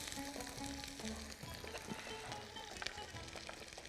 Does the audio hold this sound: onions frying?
yes